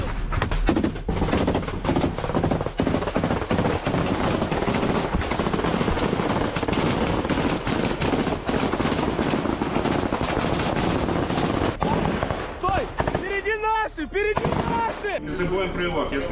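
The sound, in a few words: Bradley fighting vehicle firing its guns at trenches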